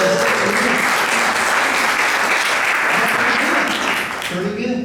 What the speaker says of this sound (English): So have a nice round of applause back